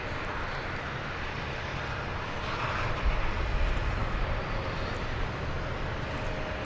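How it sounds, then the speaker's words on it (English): An American Airlines Airbus A321 at DFW Airport gives off a low, distant engine rumble that grows a little louder in the middle and then holds steady, with no voices. "it looks to be American Flight 2432 to San Jose, or to Los Cabos, Mexico. It's an Airbus A321."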